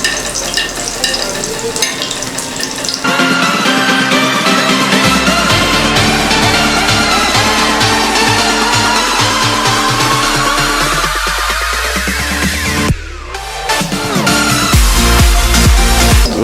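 Chicken patty frying in hot oil in a pan: a steady, close sizzle throughout, with occasional scraping and stirring sounds and no talking.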